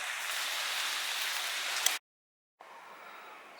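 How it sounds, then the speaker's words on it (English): Light rain falls outdoors in Houston during Hurricane Nicholas, a steady soft hiss of drops that cuts out briefly and then returns slightly fainter, with no voices. "It's continuing to rain here."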